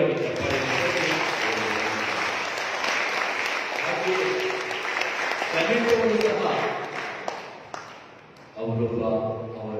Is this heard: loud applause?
yes